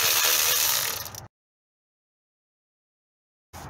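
Ratchet working on a 12 millimeter nut on a 2016 Honda CR-V engine, a dense rapid clicking burst for about a second, then silence, then clicking resumes briefly at the end.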